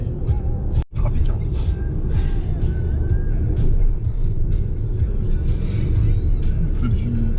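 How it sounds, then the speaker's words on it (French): Road traffic on a street: a continuous low rumble of passing cars and trucks throughout, with a brief dip near the start and a faint voice in the background. "Trafic, hein."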